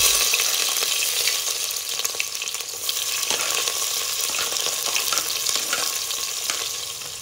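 Cumin seeds and peppercorns frying in hot oil for a Madurai-style fish curry, a loud steady close sizzle and crackle with occasional stirring scrapes, no voices.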